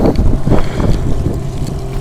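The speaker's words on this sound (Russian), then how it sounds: "правда сильный ветер." Strong spring wind buffets a small Aquilon 390 fishing boat with a 9.9 hp outboard, a loud, rough, continuous roar of gusts across the open water, with no voices.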